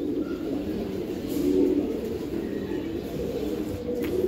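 A pair of Giribaz racing pigeons gives soft, muffled cooing, a low continuous murmur that swells briefly midway.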